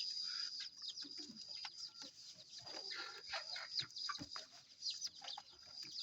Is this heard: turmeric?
no